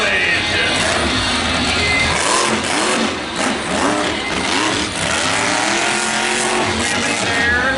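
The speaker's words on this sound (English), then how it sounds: "Wheelie there, crushing some cars, and he's not done yet, Monster Truck fans!" A monster truck at an All Star Monster Truck show in Bakersfield pops a wheelie and crushes cars, its loud engine roaring and revving with rising and falling pitch sweeps, and voices are heard in the mix.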